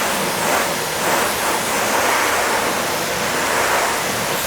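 A steady loud rush of water spraying over a car's paint, coated with Soft99 Fusso Coat and Collinite 845 wax, continuous broadband hiss with no talking.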